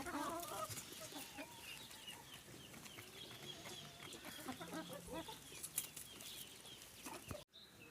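Farm poultry feeding in the evening, a busy mix of clucks and chatter with wing flaps, close and moderately quiet, ending in a sudden brief thump.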